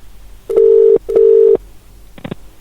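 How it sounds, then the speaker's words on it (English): A telephone ringing tone on a call, heard as two loud, steady beeps of about half a second each, then a brief clatter of line noise, with no talking. "Yeah, it's ringing."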